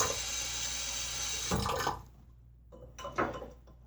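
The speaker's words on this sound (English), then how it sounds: "So we can start adding water." Tap water running into a sink while mixing shaving lather in soft water, a steady close rush that cuts off midway, followed by a few brief splashes and trickles.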